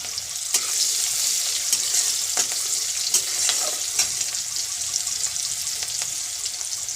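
Onion frying in a pan during home cooking of a meat curry, a steady close hiss and sizzle with occasional crackles and stirring scrapes.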